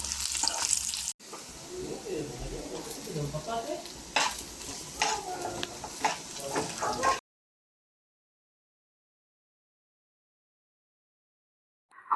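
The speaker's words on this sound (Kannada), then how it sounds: "ಅದ್ರ ಜೊತೆ ಸ್ವಲ್ಪ ಒಣಮೆಣ್ಸಿನ್ಕಾಯಿ ಹಾಕೊಂಡು ಹುರ್ಕೊಳ್ತಾ ಇದ್ದಾರೆ" Dry red chillies fry in a pan with cinnamon and cloves, a steady crackling sizzle with stirring scrapes for about seven seconds, then silence.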